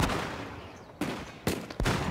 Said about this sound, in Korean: 사무라이의 갑발을 무용지물로 만들어버리는 이것이 바로 조총이다